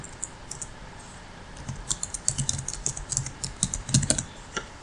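Fingers tap out a name on a computer keyboard, starting with a few scattered keystrokes and then a brisk, irregular run of close, crisp clicks, with no voice.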